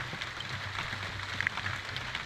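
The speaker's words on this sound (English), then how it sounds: "The rain won't stop." Rain keeps falling over a homestead cabin construction site, an unbroken wash of hiss with a low rumble beneath and a few faint droplet ticks. It stays even and close throughout.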